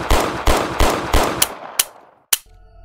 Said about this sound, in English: Master has given Dobby a Taurus PT 145 ACP.